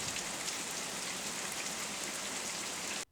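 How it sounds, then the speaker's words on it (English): Steady rain falls on surfaces, a dense, even hiss that holds unchanged for about three seconds and then stops abruptly, with no voices. "And then the rain started."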